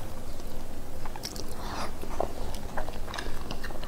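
A fried chicken leg is bitten and chewed up close, with a few crunchy bites over steady moist chewing and mouth sounds, no talk.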